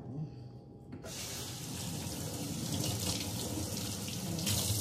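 Water runs steadily from a kitchen tap as blueberries are rinsed beneath it, a continuous splashing gush that starts abruptly and stays loud and close throughout.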